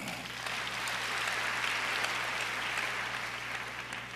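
A church congregation applauds at a Christmas service, a steady, dense wash of clapping from many hands filling the room for several seconds with no talking over it.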